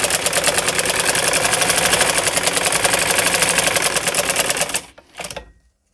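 A sewing machine stitches a fabric cushion with green thread in a fast, continuous rattling run, then stops and gives one short final burst.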